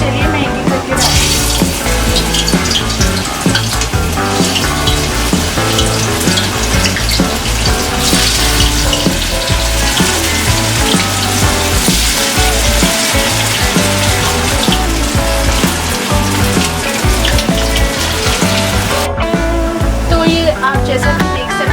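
Cauliflower florets for Gobi Manchurian deep-fry in hot oil, giving a dense, loud, continuous sizzling crackle that runs unbroken throughout.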